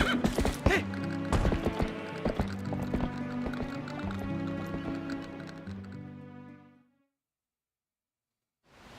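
A horse whinnies over quick clip-clopping hoofbeats in the video game Dusklight, fairly loud and continuous for several seconds before cutting off into silence.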